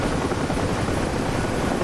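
Military helicopter in the DCS flight simulator during a Falklands War landing, a steady close rotor drone with dense low thumping chop filling the whole stretch, no talk.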